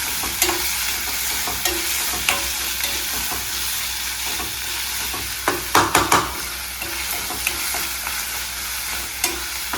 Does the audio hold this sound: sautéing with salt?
yes